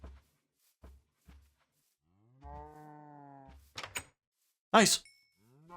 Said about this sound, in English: Baby cow!